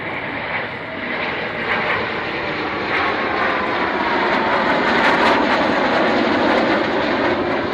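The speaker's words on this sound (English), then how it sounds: "you'll be looking for the 767 tanker formation, just coming in from the west" Formation of Boeing 767 tanker aircraft on a low pass at an air show, a loud, broad jet roar that builds and holds steady as the planes fly past overhead.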